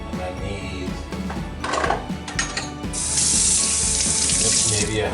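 Water runs from a kitchen tap into a container for mixing dough, a steady loud hiss for about two seconds after some clattering and handling noises.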